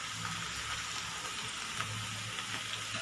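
Mushroom pieces frying in hot oil for a street-style mushroom masala, giving a steady, close sizzle and bubbling that runs unbroken with no one talking.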